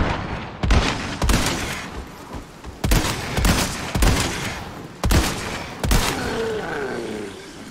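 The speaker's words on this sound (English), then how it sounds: "it took 8 shots from the fully upgraded Stingray to defeat the Brute" Fully upgraded Stingray rifle fired at a Brute in the Resident Evil 4 Remake, roughly eight loud, sharp shots spaced irregularly with booming tails, followed by a creature's low growl near the end.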